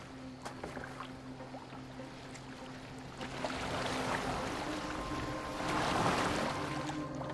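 A Viking longboat gliding over water in the video game Assassin's Creed Valhalla, with soft lapping and splashing along the hull beneath a low ambient hum, swelling gradually louder toward the end.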